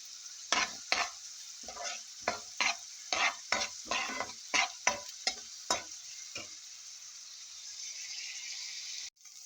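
Fried rice with string beans, carrots, cauliflower and chicken tapa, stirred and scraped in a frying pan: a dozen rhythmic sizzling strokes over a steady fry, then the sizzle continues alone.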